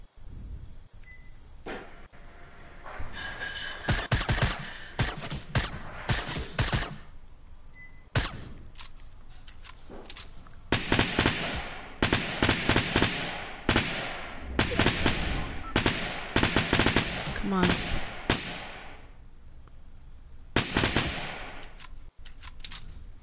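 Gunfire in a video game, with bursts of shots in irregular clusters, some single cracks and rapid volleys, loud and close throughout with brief pauses between.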